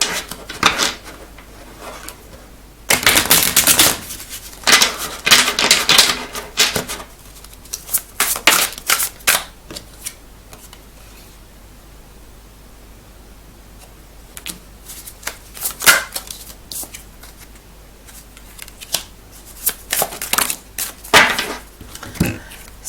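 A deck of playing cards is shuffled in several bursts of riffling and flapping, loud at first and then quieter, with pauses between rounds and no talk.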